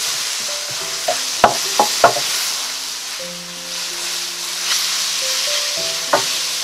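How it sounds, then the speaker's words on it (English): Beef stir fry with homemade green seasoning sizzles steadily in a pot, with a few sharp clinks and scrapes of a spoon stirring through the broad hiss. "I'll add a tablespoon of green seasoning I made yesterday. Give it a stir."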